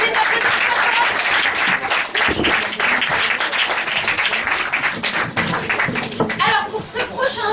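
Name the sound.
audience applause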